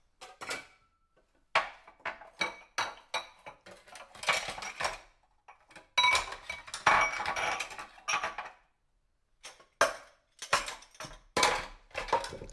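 A spoon knocks and scrapes around a bowl while vettu cake batter is mixed, giving rapid, irregular clinks and taps in bursts with short pauses, close and moderately quiet.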